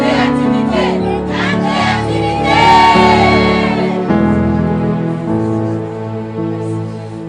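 A congregation shouts loudly together at a French-language prayer meeting, a sustained wall of voices with whoops rising and falling over about seven seconds, swelling toward the middle before easing off.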